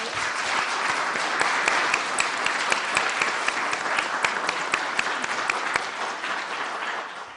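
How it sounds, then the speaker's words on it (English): Steady, dense applause from a county commission candidate forum audience in Martin County, with sharp individual claps over a continuous wash that thins slightly as it ends. "let's just give them a round of applause for coming out here"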